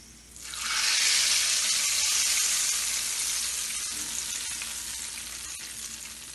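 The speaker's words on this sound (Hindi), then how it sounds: "जीरे और लहसुन का भगार है" A tempering of cumin and garlic dropping into hot oil and poured over lentils, giving a loud burst of sizzling that swells in the first second, then slowly fades, with a few small clicks near the end.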